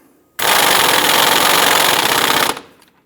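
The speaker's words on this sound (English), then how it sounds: "I want to go ahead and snug this down using a 21mm socket" An impact wrench with a 21mm socket snugs down an outer tie rod nut on a 2011-2021 Jeep Grand Cherokee, giving one loud, close, continuous rattling burst of about two seconds.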